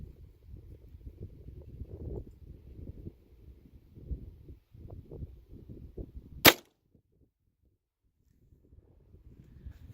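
An M39 Mosin rifle loaded with a pencil fires once outdoors, a single sharp, loud crack standing out from soft rustling and wind before near silence.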